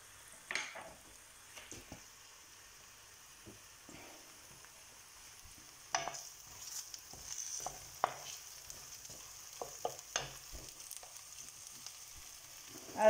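Onions and pork sizzle in a pan for a Visayan-style pork stew. The frying is soft and steady, broken by scattered stirring scrapes and utensil clicks against the pan.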